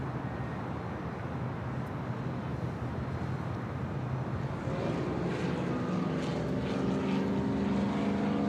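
A China Eastern Boeing 777-300ER airliner at LAX, its jet engines producing a steady broad roar from a moderate distance that swells slightly toward the end.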